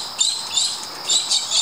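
Birds chirp outdoors in a rhythmic pattern of high, bright calls that rise and fall in short bursts, moderately close with a quiet background.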